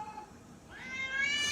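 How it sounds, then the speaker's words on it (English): A house cat meows at cats shown in a video game, one rising, drawn-out meow heard close over faint background sound. "This cat hates seeing cats in video games."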